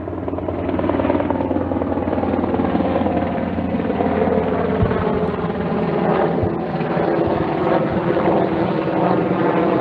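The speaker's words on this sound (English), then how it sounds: "the helicopter agrees with me" A helicopter drones steadily overhead, its rotor thump and engine roar loud and continuous throughout.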